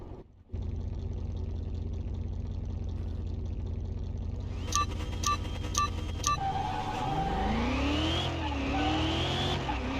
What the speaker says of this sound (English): I'm wondering if this this Cutlass can beat us.